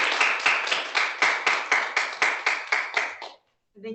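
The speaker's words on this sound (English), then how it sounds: "I would like everybody to give Natalie one final round of applause" A small audience at an astronomy colloquium gives the speaker a final round of applause, a sparse, rhythmic clapping of roughly a dozen distinct, evenly spaced claps that fades out, followed by a brief pause and the start of a voice.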